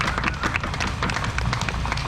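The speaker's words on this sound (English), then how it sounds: "round of applause" Outdoor crowd at a drag racing event at Virginia Motorsports Park clapping for the event sponsors: a short, steady patter of many hands with low rumble beneath, continuous over about two seconds.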